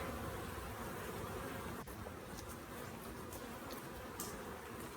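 Honeybees buzzing in a frenzy at sugar water, a dense continuous drone close by with a few brief louder passes of individual bees.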